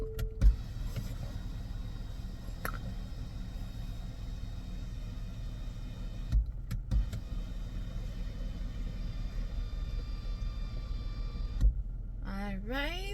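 A car's power window motor whirs steadily over a low engine rumble as the window is raised with the car switched on, during Hurricane Melissa in Jamaica, with brief clicks and a short voice near the end.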